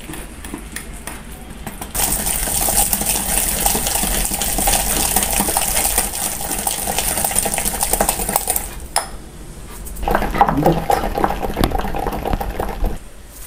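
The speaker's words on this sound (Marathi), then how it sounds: "आता हे आपण मिक्स करून घ्यायचं आहे" A whisk beats batter spiced with grated nutmeg in a bowl, producing a loud, steady metallic clatter and scrape for several seconds, then a pause and a few slower, lighter taps and stirs.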